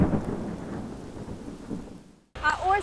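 Heavy rain pours down during an outdoor walk in Turkey, a loud, dense hiss with deep rumbling that slowly fades before cutting off abruptly, then a short burst of voice follows.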